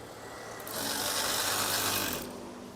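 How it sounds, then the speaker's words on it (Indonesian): A sewing machine stitches curtain fabric, a steady close mechanical whir that rises to a louder run for about a second and a half, then eases back. "Saya jahit kembali."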